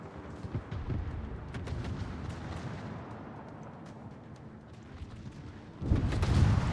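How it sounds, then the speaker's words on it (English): Warship guns firing at a battleship in World of Warships: repeated deep booming salvos and sharp cracks over a rumbling battle background, ending in a louder, heavier barrage. "He's still shooting at the battleship."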